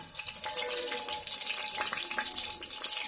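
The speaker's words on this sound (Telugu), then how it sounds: "మనకి సోంపు వేగుతుంది" Fennel seeds frying in hot oil for a mutton curry, a continuous bright hiss and crackle of sizzling held at an even level from start to finish with no voices.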